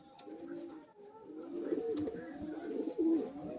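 Pigeons coo steadily in a loft in Naihati, North 24 Parganas, with overlapping throaty, rolling calls from several birds close by and a louder burst near the end, over faint room noise.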